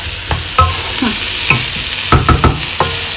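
Vegetables sizzle and crackle in a hot pan while being stir-fried for chicken noodles, with scattered clanks and scrapes of the utensil against the pan, close by and with no talking.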